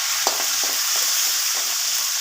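Tempering for gongura chutney sizzling and frying in a pan, a steady hiss close by with a few soft stirring knocks and no voices.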